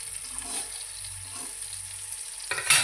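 Eggplant slices frying in oil in a home kitchen pan, a steady low sizzle with soft crackle throughout, brief louder stirring or shifting clatter near the end.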